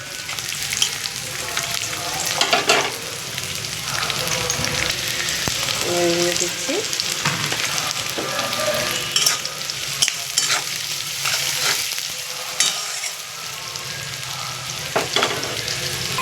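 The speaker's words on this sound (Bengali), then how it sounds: "এবার আমি গাজরটা দিয়ে দিচ্ছি, গাজরটা একটু ভাজা হবে।" Carrots fry in oil with green chillies in a pan, crackling and sizzling steadily up close while a utensil stirs and scrapes through them in repeated strokes; a voice speaks briefly over the cooking.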